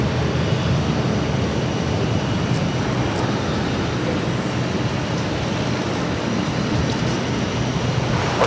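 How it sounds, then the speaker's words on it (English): Steady, loud broadband roar of a Lufthansa Airbus A340-600 jet taking off from Boston for Frankfurt, a sustained engine rush with no talking. "423 taking off to Frankfurt on the A340-600"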